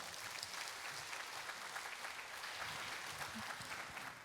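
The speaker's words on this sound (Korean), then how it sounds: "감사의 박수 부탁드립니다" At the 30th Gwangju Women's Convention, an assembled audience gives a round of thanks applause, a soft, even wash of many hands clapping at a distance throughout.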